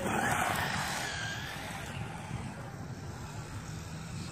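A WLToys A959 upgraded RC car drives at full throttle, its whining motor rising and then fading as it moves away, leaving a faint, steady buzz with outdoor noise behind.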